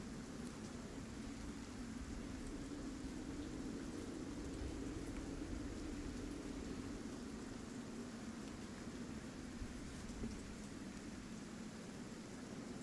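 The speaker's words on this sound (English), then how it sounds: "I'm just sitting here enjoying the rain noises." Steady rain falling outside during a gaming session, a continuous even hiss with a low rumble underneath, constant and unbroken throughout.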